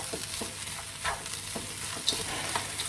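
Frozen vegetables hitting hot oil with garlic, ginger and onion, a continuous crackling sizzle broken by a few stirring scrapes, close and even in level.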